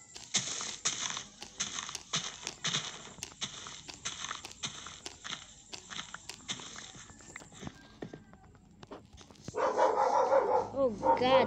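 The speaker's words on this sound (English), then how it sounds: "there's dog. Dog noise." Dog barking in Minecraft, a run of sharp regular yaps with game footsteps and crunching beneath, fading out before a burst of louder game noise at the end.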